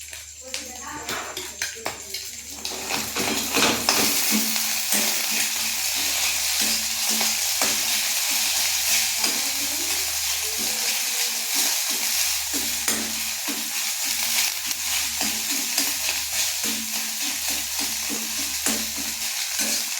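An egg frying and being stirred in a pan, a loud, busy sizzle with rapid scraping and tapping, while a person talks over it much of the time.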